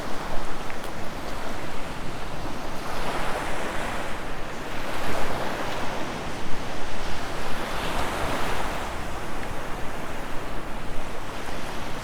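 Steady wind buffeting the microphone on a beach at low tide, with broad, rushing surf-like noise that swells and eases in slow gusts and no speech.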